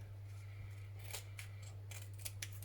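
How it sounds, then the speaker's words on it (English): Scissors snip through paper while a postcard pocket book is trimmed, a handful of short crisp cuts over a steady low hum, close and clear with no talking. "so now we can trim this"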